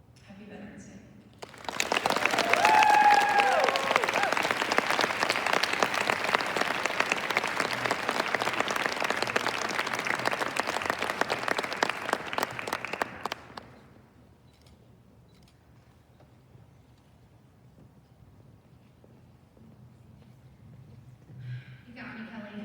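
Audience at a Veterans Day speech breaks into loud sustained applause, rising quickly and lasting about ten seconds before fading into quiet room noise and a voice resuming.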